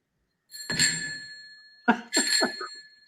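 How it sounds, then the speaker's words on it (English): Small bell rings in a film: a bright single ding, then after a short pause a couple more quick rings with shimmering sustained overtones, heard alone against quiet. "every time you hear a bell ring, it means that some angel's got his wings"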